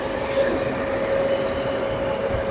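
A freight train rolls along rails near Parli Vaijnath railway station, with a sustained high metallic wheel squeal over a steady rumbling roar, fairly close.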